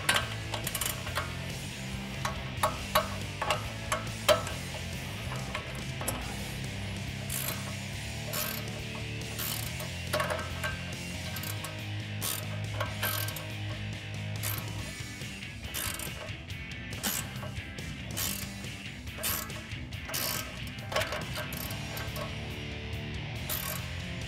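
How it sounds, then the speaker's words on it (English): Ratcheting wrench turning a 10 mm socket on a ball joint of a 2019-2022 RAM 1500 during a leveling strut install, a steady close clicking pawl rattle running throughout over low mechanical hum. "we can go ahead and put our ratcheting wrench on and then get a 10 millimeter socket on the"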